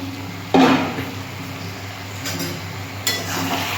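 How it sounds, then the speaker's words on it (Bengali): Metal lid lifted off a cooking pot of Malabar spinach, a single sharp clank followed by lighter clinks, close by, in a quiet kitchen. "এবার ঢাকাটা খুলে দেখি"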